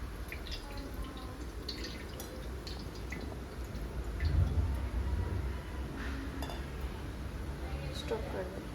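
Water is poured and dripped over a Ganesh idol during a ritual bath for Ganesh Chaturthi, giving soft trickles, drips and light clinks of vessels under people talking nearby.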